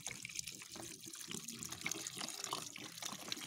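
Two liters of well water being poured into a container, a soft continuous splashing trickle with small gurgles, faint and close, with no speech.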